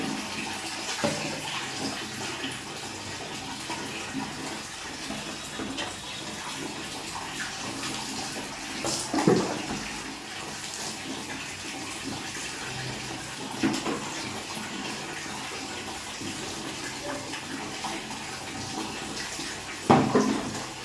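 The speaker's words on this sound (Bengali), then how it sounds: "আর একটু জল দেবো।" Water being poured during a morning bath, a continuous splashing wash with a few louder pours and splashes at intervals, close by with no talking.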